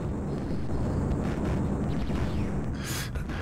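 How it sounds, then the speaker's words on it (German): A dense, rumbling explosion roar with crackling debris sustains steadily in the Amiga game Dune II: Battle for Arrakis, ending with a brief hissing burst. "Ist doch direkt darauf explodiert."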